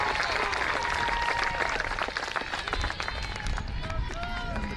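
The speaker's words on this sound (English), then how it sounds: "Cheering just continues to get louder and louder with each pitch" Crowd cheering and shouting at a Class A high school softball game between Ritchie County and Wahama, a dense, loud, sustained roar of many voices with whistles and calls rising throughout, spectators close around.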